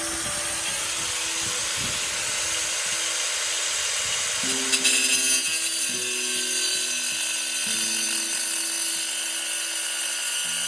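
A power tool cuts off protruding threaded rod ends during renovation of a stone granary, a steady grinding whine running continuously with a shift in pitch partway through, loud and close with no talking.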